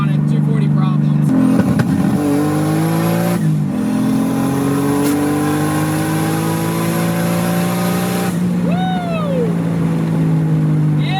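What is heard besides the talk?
turbo RB20 Nissan 240sx rolling anti-lag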